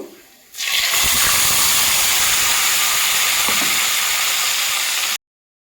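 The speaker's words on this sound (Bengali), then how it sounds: "তো ওই মাছ ভাজার তেলে আমি কিছুটা তেল অ্যাড করে দিলাম গরম হয়ে গেছে দিয়ে দেবো পুরনে কালো জিরে" Black cumin and ground spice paste dropped into hot oil left from frying tengra fish for a curry: a sudden loud, steady hiss and sizzle that begins abruptly and holds for several seconds, close up.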